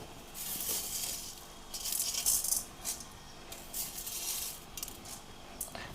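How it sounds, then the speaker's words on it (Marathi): A spoonful of fenugreek seeds dropping into hot oil with garlic gives a rattling patter and crackling sizzle in several short bursts over a low background, with no talking. "तर इथं मी मेथा आहे ना 1 चमचा टाकणार आहे"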